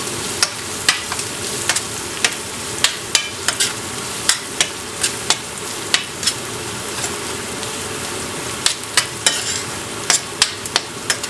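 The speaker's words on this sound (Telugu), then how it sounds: "పచ్చివాసన పోయేంత వరకు కూడా అల్లం వెల్లుల్లి ముద్దను వేయించాలి" Ginger garlic paste sizzles and fries in a pan, a steady close frying hiss broken by frequent sharp crackles and stirring scrapes throughout, with no talk.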